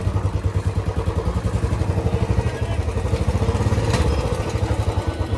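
A modified Royal Enfield Bullet 350 BS6 motorcycle being ridden, its single-cylinder engine giving a close, steady low thumping beat with a faint mechanical clatter throughout.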